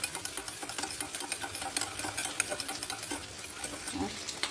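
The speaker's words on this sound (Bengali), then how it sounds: "একটু ভালো করে পেস্ট মিশিয়ে নেবো।" Tomato sauce and chili sauce are stirred into a paste in a pan for chilli paneer. A spoon scrapes the pan in quick, steady strokes over a faint sizzle, close and continuous.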